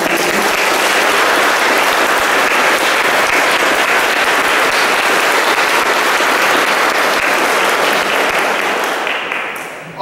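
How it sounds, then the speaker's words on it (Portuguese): Sustained loud applause from a large crowd at a gathering, honouring women ministers, steady clapping for about nine seconds before it begins to fade. "vamos dar uma salva de palmas para essas ministras"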